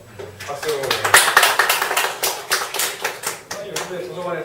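Group of people clapping in a small class or lecture setting, a burst of claps building quickly then tapering into scattered, uneven claps, with a voice briefly audible at the start.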